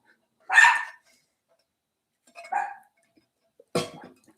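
An indoor dog gives three separate barks spaced well apart, the first loudest and the last short and gruff, with silence between and no talk.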